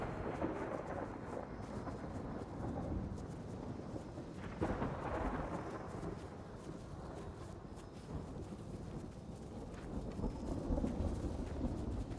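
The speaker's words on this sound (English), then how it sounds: "Storm's coming." A thunderstorm moves in, with rolling thunder rumbling beneath steady rain, swelling in places and staying broad and continuous without any talking.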